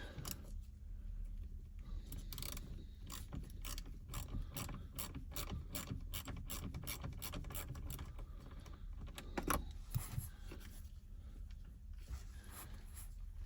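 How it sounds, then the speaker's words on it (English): A ratchet works loose the pinch clamp on the negative battery terminal of a 2020 Aston Martin Vantage, giving a long, steady run of close, crisp clicks that pause briefly near the end, with no talking. "let's go ahead and we're going to get this pinch terminal off the negative post"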